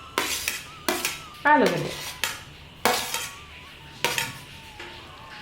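A spoon clinks and scrapes against a bowl as chopped roasted potato and capsicum are mixed into curd, about seven sharp rhythmic strokes close by with a few short spoken words between them.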